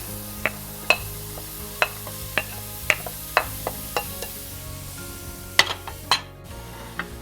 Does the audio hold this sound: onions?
yes